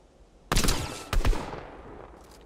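Fortnite gunfire: two loud, close automatic bursts about half a second apart, each a rapid rattle of shots, the second fading into a decaying echo.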